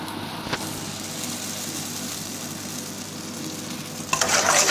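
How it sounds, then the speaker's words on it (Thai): A palm sugar mixture simmers and sizzles steadily in a pot while a utensil stirs it, with a louder scraping burst near the end. "คน ให้เข้ากันนะคะ"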